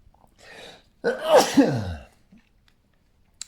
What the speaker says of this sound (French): Et je vais éternuer.